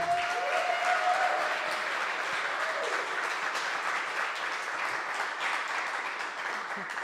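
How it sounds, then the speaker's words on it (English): Sustained audience applause at a live talk-show event welcoming a city council member, a dense steady wash of clapping held at even loudness for the full seven seconds, with a faint voice briefly audible early on. "A sustained applause."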